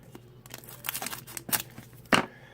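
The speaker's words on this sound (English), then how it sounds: "Trim the top off with my scissors." A few crisp scissor snips and rustling crinkles as the top of a Pokémon card booster pack is cut off, close up, in short irregular bursts with no talking.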